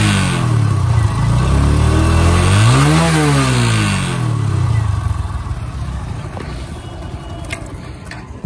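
TVS Apache motorcycle exhaust revving while parked, a loud close throaty engine rising in pitch to a peak and falling back, then settling into a rough idle.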